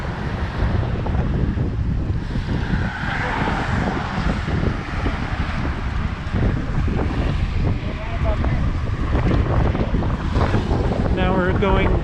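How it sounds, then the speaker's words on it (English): Loud, constant wind buffets the microphone while a bike rolls down the slope of the Tappan Zee Bridge, a rough low roar that never lets up, with a faint chirp near the end. "Now we're going down the slope, and it's getting a little windier."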